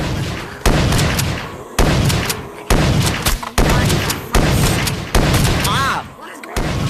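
Loud, dense bursts of gunfire from a zombie survival video game, repeated volleys with brief pauses, booming and continuous across the whole stretch.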